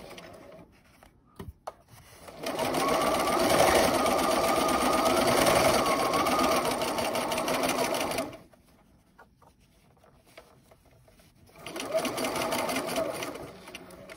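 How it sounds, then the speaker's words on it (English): A sewing machine stitches a fabric face mask with elastic, a close, steady mechanical whir in two long runs separated by a quiet pause, with faint handling noise between them. "Feel free to fast forward because I'm just sewing."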